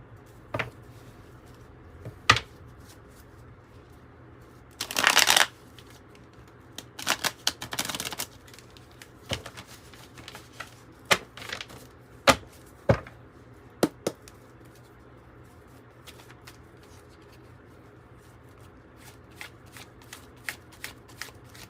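A 108 oracle card deck being shuffled, with sharp bursts of riffling cards and scattered soft taps and card handling between them, close and fairly quiet.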